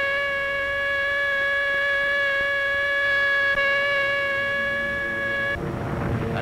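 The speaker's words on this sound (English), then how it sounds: "The morning air is suddenly broken by the eerie wailing sound of the siren." An air raid siren in wartime Manila holds a steady, tonal wail that stays loud and sustained, then cuts off abruptly near the end, leaving broadband noise.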